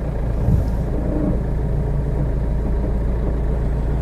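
A car engine idles at half clutch with a low, steady rumble, a brief bump in the first second, then an even drone.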